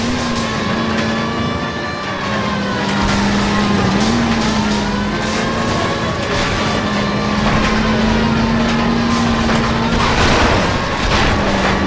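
A streetcar careens dangerously through a police chase in LA Noire, a loud, sustained engine whine whose pitch rises and dips with the speed, with rumbling and occasional bangs beneath it, continuous for about twelve seconds.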